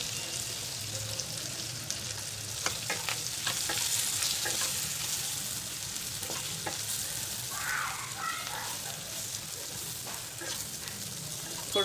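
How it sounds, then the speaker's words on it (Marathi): Masala-stuffed brinjals are sautéed in oil with ginger-garlic paste and hing, giving a steady close sizzle broken by repeated spatula scrapes and clinks against the pan. "आपण हे मसाला भरलेली वांगे आहेत ते घालायचे छान परतून घ्यायचे"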